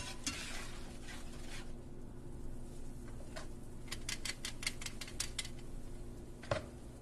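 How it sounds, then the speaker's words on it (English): Flour and butter browning in a pan for gravy, a constant sizzle with a run of rapid utensil scrapes and clinks against the pan, close, with no talk. "So, you brown your flour and your butter."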